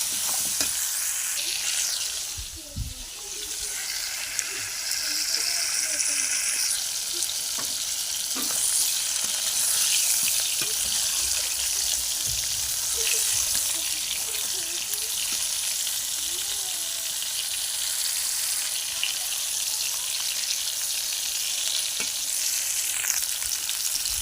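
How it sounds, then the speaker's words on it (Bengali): Potatoes frying in a pan with a steady, close hiss and crackle of hot oil that runs without a break, with occasional stirring scrapes and no talking. "আলু ভাজা হচ্ছে, পটল ভাজা চিংড়ি ভাজা হয়ে গেছে, এবারে আলু ভাজা হচ্ছে।"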